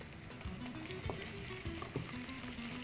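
Onions sauté in a pan with a steady, close sizzle as ginger-garlic paste goes in. A spatula scrapes and stirs at intervals through the frying, and no one speaks.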